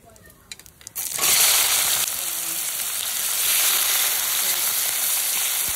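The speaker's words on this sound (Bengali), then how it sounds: "এবার পেঁয়াজটা দিয়ে দেবো।" Onions frying and sizzling in a pan for a Bengali pomfret paturi meal: a quiet start, then a loud, steady broadband sizzle that swells and holds close up after the onions hit the hot oil.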